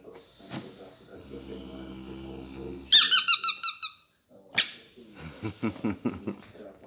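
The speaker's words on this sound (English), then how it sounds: "The unit next door's just brought a box full of toys for Lance and Bear, the dog next door." A dog plays with a squeaky toy in a workshop, giving short bursts of rapid, sharp squeaks separated by quieter shuffles and thumps.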